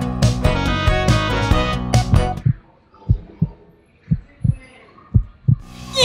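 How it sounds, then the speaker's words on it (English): A heartbeat heard through a stethoscope sounds as soft, low, evenly spaced thumps in pairs. It follows a loud burst of music and plays alone in near silence. "let's just check his heartbeat"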